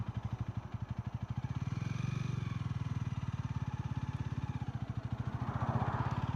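Honda Rebel motorcycle pulling away in first gear, its engine throbbing in a steady close pulse that rises slightly as it accelerates, loud and alone.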